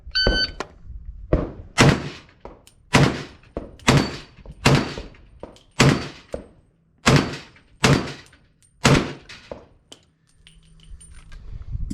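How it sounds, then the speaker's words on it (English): A Rock-Ola M1 Carbine fires 1945 Lake City ammunition at a range, giving about a dozen sharp, loud shots in a quick, fairly steady string, each followed by a short echo, then a pause at the end. "Gonna hit it with the M1 Carbine."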